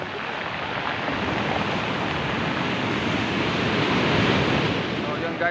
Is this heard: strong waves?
yes